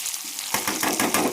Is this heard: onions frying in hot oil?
yes